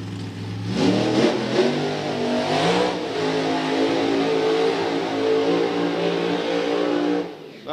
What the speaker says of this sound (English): Nice pedaling burnout there for Rod